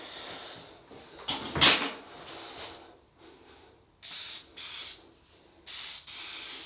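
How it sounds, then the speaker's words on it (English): Several short, sharp bursts of Faberge Brut aerosol aftershave spray hiss close by, each about half a second long, after a louder rustle and handling noise. "it's a spray version, you see"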